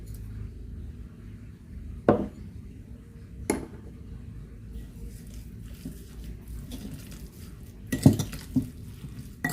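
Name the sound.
stirring the homemade longganisa meat mixture in a bowl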